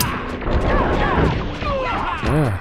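Rapid gunfire from Scooby-Doo! First Frights, played on the PCSX2 emulator, comes as a dense run of sharp blasts with a few tonal game effects, under someone talking.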